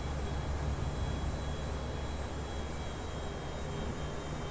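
Steady, unbroken jet-engine drone from an airliner taxiing toward a parking gate in Flight Simulator X, a constant broadband rumble with a faint high whine, loud and even throughout with no talking.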